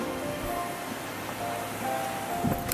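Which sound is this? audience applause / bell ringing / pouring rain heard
pouring rain heard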